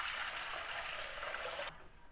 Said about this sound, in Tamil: இப்போ தேவையான அளவுக்கு தண்ணி போட்டுக்கலாம்.